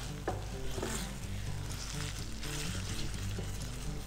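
Tomato paste toasts in a pan for paella, a dense continuous sizzle with stirring scrapes, close and steady at low volume.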